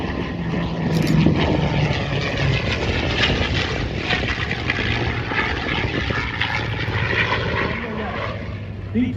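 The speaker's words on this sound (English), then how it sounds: "B-25 Mitchell, Panchito." A B-25 Mitchell bomber flies past at an airshow at Dover Air Force Base, Delaware, its propeller engines a steady, distant drone that swells slightly early on, with voices audible over it.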